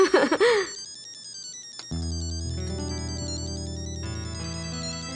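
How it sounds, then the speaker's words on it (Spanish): A mobile phone ringtone plays a steady melodic electronic tune for an incoming call, after a brief burst of other sound at the start, moderately loud and close with no one talking. "¿Por qué me estará llamando? ¿Por qué no respondes?"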